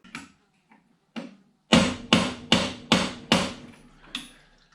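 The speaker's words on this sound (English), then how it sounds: "Hammering it in with a socket" Sharp metallic hammer blows drive a gear in with a socket on a Matchless G3L motorcycle's Burman CP gearbox, a few spaced taps then a quick run of five evenly timed hits, close and loud, with no talking.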